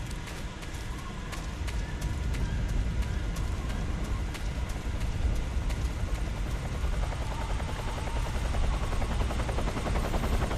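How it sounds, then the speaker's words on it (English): A helicopter hovers or passes overhead in Metal Gear Solid 3: Snake Eater, a continuous loud rotor chop with rhythmic thumping and engine roar that holds steady for the whole stretch. "we're just going to wait for the helicopter to pass"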